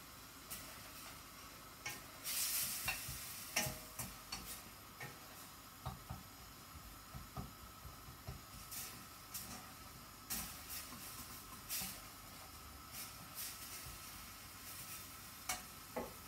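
Masala fries in a kadhai pan for Mithila-style yam kofta, a faint low sizzle broken by irregular light clicks and scrapes of stirring throughout.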